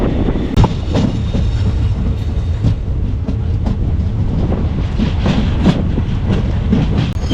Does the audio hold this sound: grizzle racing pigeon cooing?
no